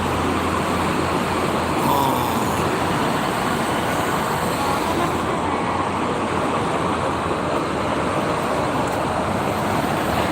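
Heavy, congested traffic on the Cikampek toll road between West Karawang and Bekasi, heard as a steady, loud roadway roar of passing cars and buses that continues without a break from start to end.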